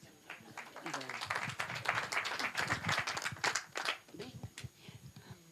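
Applause rises in a Spanish parliamentary debate at the Congreso de los Diputados, a sustained wash of clapping hands with some voices mixed in, swelling and then thinning out toward the end.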